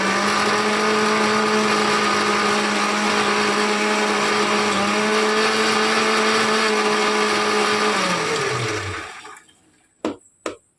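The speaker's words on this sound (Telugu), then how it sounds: "ఇదైతే నేను మిక్సీ పట్టుకుంటాను" A kitchen mixer grinder whirs steadily while grinding spices for an egg masala curry, a loud, even motor drone for about nine seconds before it winds down and stops, followed by a couple of brief knocks.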